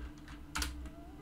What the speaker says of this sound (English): This keyboard is so clacky.